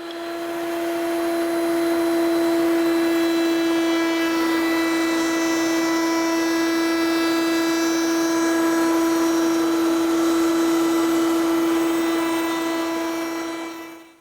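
Wood cut close to a curved line on a power saw for blanket chest parts, a loud steady whining drone with a strong tone that holds evenly for the whole cut before dropping off.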